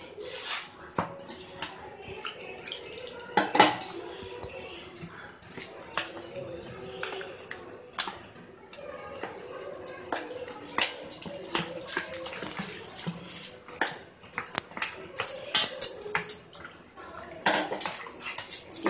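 A spoon stirs semolina dhokla batter with water in a bowl, giving soft, irregular scrapes and light clinks that stay fairly faint throughout.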